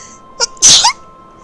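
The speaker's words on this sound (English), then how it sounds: "I have to sneeze." A single sharp human sneeze with a quick inhaled build-up, close and loud in an otherwise quiet setting.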